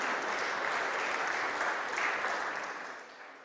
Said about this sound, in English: we need to give them a big round of applause to the referees